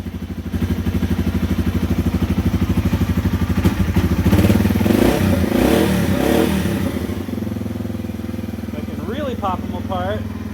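A Yamaha TW200 motorcycle engine idles close by with a rapid, even thumping beat that roughens and swells midway, then settles; a person talks briefly near the end.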